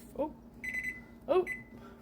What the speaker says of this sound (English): Gonna go ahead and set a timer for